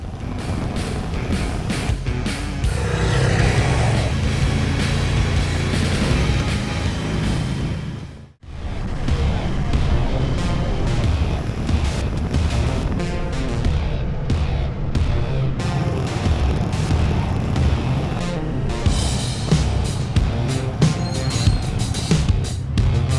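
A motorbike rides along a road in Belgium, its engine and wind rush forming a loud, steady roar that cuts out briefly about a third of the way through before resuming unbroken.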